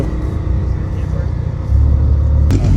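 A BMW M2 at a car meet, its engine rumbling steadily close by, then swelling louder and heavier as it revs up partway through, with background crowd noise around it.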